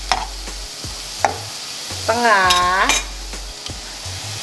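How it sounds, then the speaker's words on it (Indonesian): Cauliflower fried rice with beaten eggs is stirred in a pan, with a spatula scraping and clattering over a steady sizzle, close up, and a short bright tone rising near the middle, plus a brief spoken word. "Kita aduk-aduk sampai dia tuh agak setengah matang"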